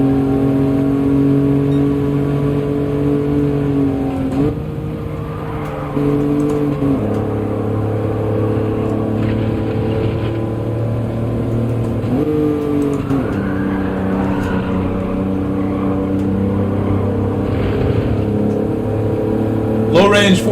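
A race car engine in the Gran Turismo 7 video game runs steadily through a short course, its tone stepping between gears with rises and drops, under continuous talk.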